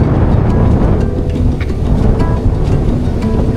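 Strong wind batters a lakeside campsite in Tanay, Rizal, a loud, unbroken low rumble of gusts pounding the microphone with no voices heard.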